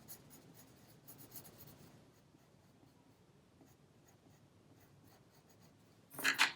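Pencil sketching on paper for a Spiderman drawing, soft scratchy strokes in short bursts near the start, then quieter rubbing, ending with a brief louder scribble, no talking.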